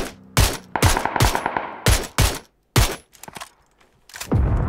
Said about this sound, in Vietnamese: Ui, bắn khét thế nhỉ?